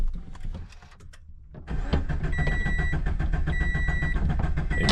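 A Subaru BRZ engine with its fuel pump disconnected cranks over without firing, a steady rhythmic starter churn that begins after a short near-silent pause and keeps up loudly to the end.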